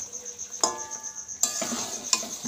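Gulkul mixture is stirred and dried in a pan, with a steady faint sizzle and a few sharp scraping strokes of the spoon against the metal.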